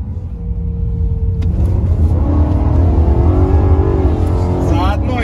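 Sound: lowered BMW M3 car driving and revving

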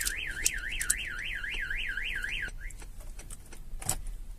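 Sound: Starline van alarm triggering on Mercedes Vito 2018

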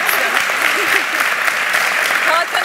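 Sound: group applause

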